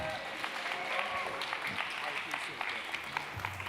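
Audience applause welcomes speaker Reggie to the stage at the UXRConf 2025 user research conference: a dense, steady wash of clapping across the whole moment, fairly loud and close.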